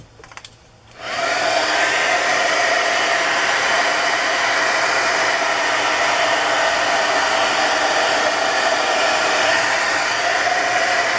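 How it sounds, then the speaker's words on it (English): Hair dryer drying an art journal, switching on after a second of small handling noises and then blowing loud and steady, a continuous close whoosh with no talk. "And we'll do some drying."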